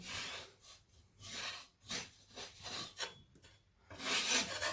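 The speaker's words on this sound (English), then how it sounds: "I'm just going to scrape the rest off from the side of the wall, just using my scraper" A scraper rasping filler off the side of a cracked wall being repaired, a series of short rough scraping strokes in an uneven rhythm, close and fairly quiet.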